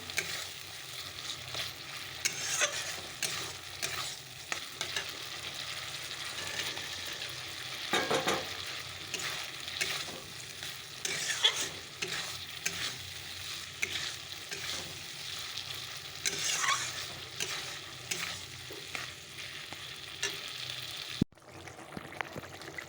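Fried potatoes tipped into a pan of spiced fish curry sizzle and bubble steadily close by, with stirring scrapes and a louder burst around the middle; no one speaks.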